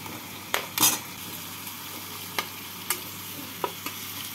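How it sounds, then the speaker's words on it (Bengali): A spoon stirs fried pumpkin with potatoes and spices in a pan, giving several sharp scraping clinks at irregular intervals over a faint low sizzle. "আলু আর মশলার সাথে নাড়াচাড়া করে নিচ্ছি।"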